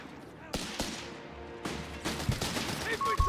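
Vickers machine gun in Company of Heroes 3 rattling off short bursts of fire amid other battle noise, with a commentator's voice talking over the action.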